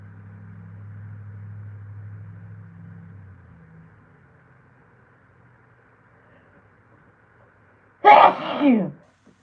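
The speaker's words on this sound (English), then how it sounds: "my sneezes can be strong" After a low hum fades into near silence, a single loud, close sneeze bursts out near the end.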